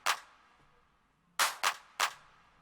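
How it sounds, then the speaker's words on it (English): Dry electronic claps from an Afro house pattern made in FL Studio play alone: one crisp clap, a pause, then three quick claps in a row, close and clean with no talking. "Pattern claps alone."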